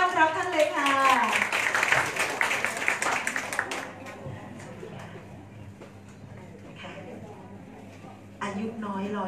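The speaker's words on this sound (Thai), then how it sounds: "ขอเสียงปรบมือดังๆ ต้อนรับท่านเลยค่ะ" Crowd applause welcomes the bride's elder during a Thai engagement procession, clapping loud at first and then fading, with someone speaking over it and more voices toward the end.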